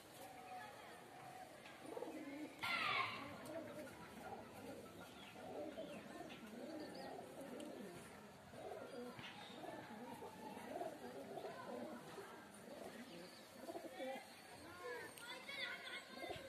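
Several pigeons of a famous Andhra breed coo softly in a loft, a male and its female held close by hand, low bubbling calls running under steady talk and background chatter.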